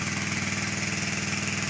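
A pump engine runs steadily beside a pond as it begins drawing water, with a dense, even mechanical drone and rapid low pulsing throughout, close and continuous with no talking.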